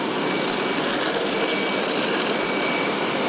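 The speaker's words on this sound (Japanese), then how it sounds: "また校舎の中に人が取り残されたとして県防災ヘリが救助を行います。" Steady, loud engine roar with rotor-like rumble fills the whole stretch, no pauses or voices, like a helicopter hovering close overhead; a prefectural disaster-prevention rescue helicopter during a comprehensive disaster drill at a school building in Yurihonjo, Akita.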